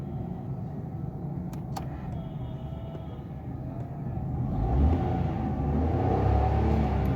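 A car engine, suspected of misfiring and due for spark plug checks, idles steadily after being started, a low rumbling hum that swells louder toward the end.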